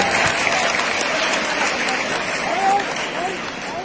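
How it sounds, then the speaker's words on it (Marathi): An audience claps loudly at a school annual gathering, a dense burst of applause fading slightly toward the end, with some crowd voices mixed in. "एकदा जोरदार टाळ्या होऊन जाऊ द्या आपल्याच एका विद्यार्थिनीसाठी."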